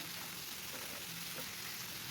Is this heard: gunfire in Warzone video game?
no